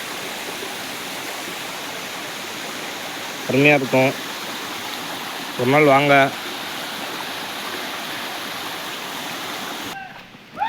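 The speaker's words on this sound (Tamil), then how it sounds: "தண்ணி எப்படி போகுது பார்த்தீங்களா?" Stream water flows in a constant, even hiss and rush throughout, heard up close, while someone speaks briefly twice over it before it cuts off at the end.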